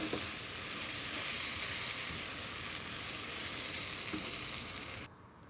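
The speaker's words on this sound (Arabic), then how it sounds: "واشوح الرز كده تشويحتين حلوين عشان يطلع معايا مفلفل وجميل" Rice stir-fried and tossed in a pan for stuffed chicken, a steady loud sizzle with faint scraping that cuts off abruptly near the end.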